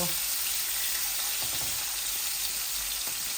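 Rohu and tilapia fish pieces frying in hot oil give a dense, steady sizzle up close, with a few light clinks partway through.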